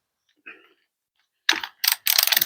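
A 3/8 ratchet clicks in a few short bursts, tightening a bracket bolt on a lawn mower engine after a faint small sound, close and loud in a quiet workshop.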